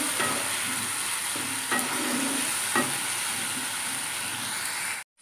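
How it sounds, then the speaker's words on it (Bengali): Spice paste with garlic sautés in a hot pan, a loud dense sizzle with a few stirring scrapes, cutting off abruptly near the end. "মশলাটা ভালোভাবে কষাতে হবে যাতে কাঁচা রসুনের গন্ধটা না থাকে।"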